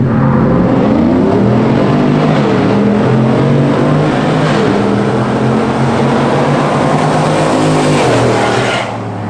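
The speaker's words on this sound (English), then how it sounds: "There'll be a whole lot of tire spinning going on." A stock 2019 truck with an aftermarket exhaust races with its tires spinning, a loud, continuous engine roar that rises and falls in pitch as it revs, heard up close with no voices.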